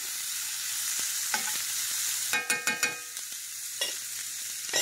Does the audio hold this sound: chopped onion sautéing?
yes